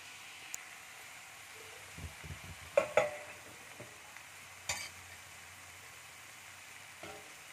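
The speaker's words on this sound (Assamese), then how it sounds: "এনেকৈ ভাজি ল'ম" Quiet sizzling of mixed vegetables frying in a pan, with a few scraping stirs and clinks from a utensil against a soft hiss.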